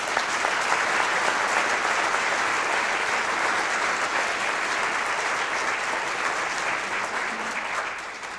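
Audience applause at a panel event on journalism welcoming the speakers, a steady broad wash of many hands clapping throughout that gently fades at the end.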